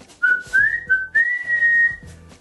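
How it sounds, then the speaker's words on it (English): A person whistles a short melodic tune of several clear notes, close and loud, alone without speech. "Whistle."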